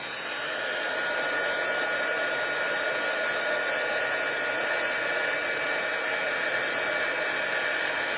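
A heat embossing tool melting embossing powder on a craft card, blowing a steady, loud, unbroken hot-air whoosh like a hair dryer, with no talking.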